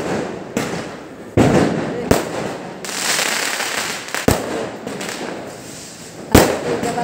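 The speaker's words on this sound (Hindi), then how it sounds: "जबलपुर में पटाखा फूट रहा है।" Diwali firecrackers go off one after another at midnight in a residential colony in Jabalpur, with sharp loud bangs at uneven intervals, followed by crackling and a hissing wash of noise.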